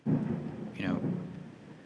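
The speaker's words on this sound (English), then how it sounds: "I think it's thunder in the background" A rumble of thunder from a passing thunderstorm rolls low and fairly close, swelling briefly and fading, with a voice heard over it.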